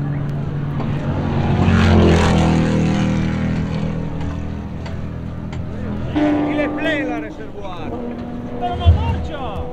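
A race car driven by von Trips pulls into the pit lane at the 1957 Sebring race, its engine a loud, rough drone that fades slightly as it slows, with voices briefly audible near the end.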